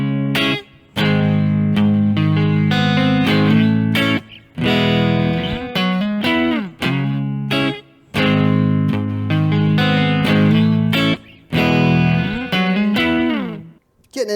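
Distorted electric guitar plays chord phrases from a song, loud and close, in bursts separated by short gaps, with sliding notes and a flourish toward the end.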